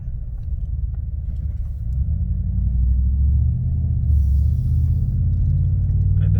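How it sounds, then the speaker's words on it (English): Inside a 2016 Cadillac Escalade with a muffler delete running in 4-cylinder mode: a low, steady exhaust drone and road rumble that grows slightly louder partway through, heard alone without talk. "You can hear the 4-cylinder right now."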